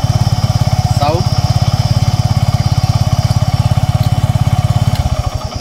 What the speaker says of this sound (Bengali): তো আমরা আমাদের এই বাইকের আপনাদেরকে সাউন্ডটা দেখালাম।